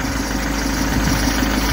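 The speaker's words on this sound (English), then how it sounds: "I haven't started the engine in weeks." An Iveco Daily minibus engine idles just after starting, a steady low mechanical drone with even throb, close and continuous with no voices.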